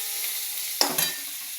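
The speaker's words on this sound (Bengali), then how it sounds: "উচ্ছেটা ভাজা চলছে।" Bitter gourd fries in a pan, hissing softly before a sudden louder burst of sizzle as it is stirred or turned, which then settles back to a gentle fry.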